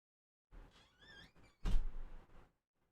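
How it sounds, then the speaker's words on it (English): A door closing indoors at home, with a faint shuffle and squeak, then a single solid thunk and a brief rattle, fairly quiet with no talk. "hold on, gotta close the door"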